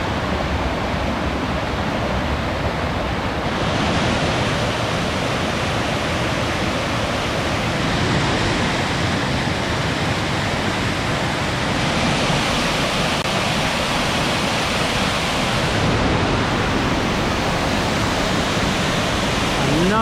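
A large waterfall on the Falls Trail at Ricketts Glen in Pennsylvania pours with a dense, steady roar that stays constant and loud throughout, with no break.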